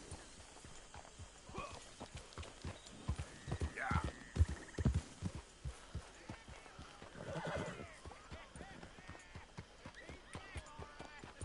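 Hooves clip-clop steadily at a walk and a horse whinnies partway through, with a voice talking over the top, in the video game Red Dead Redemption 2.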